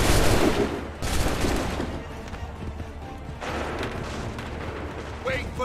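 Musket volley in Assassin's Creed 3, a loud booming burst of massed gunfire at the start and another crackling volley later, with shouted game voices and rumbling battle noise throughout.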